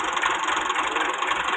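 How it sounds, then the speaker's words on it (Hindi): Tractor engine running on a farm field, a steady mid-pitched mechanical drone with light rattling, close and continuous. "चाचा है रियाज जो कि ट्रैक्टर चला रहा है"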